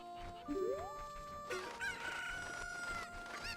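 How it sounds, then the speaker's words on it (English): A cucco chicken in the Zelda: Ocarina of Time video game crows and clucks in a few rising, squawking calls over quiet game background sound. "I want to get the chicken"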